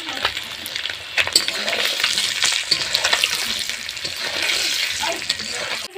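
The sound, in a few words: egg frying in oil with turmeric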